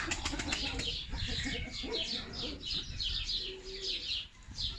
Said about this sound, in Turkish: Kanat seslerini duyuyorsunuz.